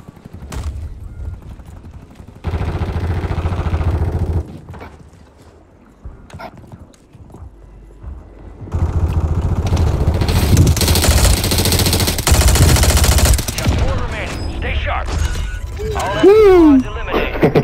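Gunfire rattles through a Call of Duty: Modern Warfare 3 match, with sustained automatic bursts building to a loud, dense stretch near the end. Players talk over the shooting throughout.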